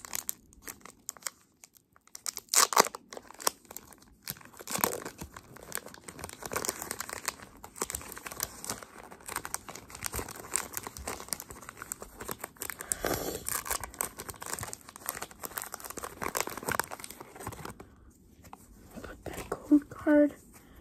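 Pokémon card pack wrapper being torn open, with crinkling and tearing foil rustles running throughout, close and moderately loud, while a person talks over it.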